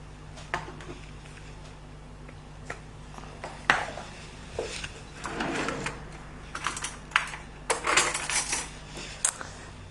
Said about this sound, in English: we're going to start beating. I've got my 2 egg whites in there